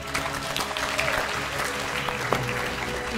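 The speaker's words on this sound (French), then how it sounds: "j'aimerais que vous vous applaudissiez tous ensemble" A crowd applauding steadily, a dense wash of clapping hands that holds at an even level throughout with a faint murmur of voices underneath.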